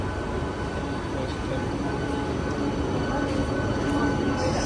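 A Mumbai local train runs with a loud, steady rumble and rattle heard from inside the carriage, continuous throughout with no pauses.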